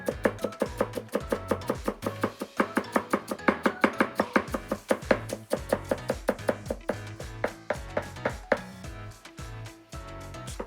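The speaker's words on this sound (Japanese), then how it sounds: "今日はきゅうりと長ネギですね。 斜めに切ってまっすぐ切る。" A kitchen knife chops cucumber and Japanese long onion on a cutting board in quick, regular strokes, each cut a crisp knock, keeping a brisk rhythm with brief pauses, close and clear.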